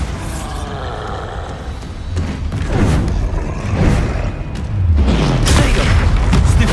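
Heavy booming blasts from Bombarda spell explosions in the game Hogwarts Legacy on PS5, a dense, loud run of rumbling impacts and crackling debris that swells toward the end.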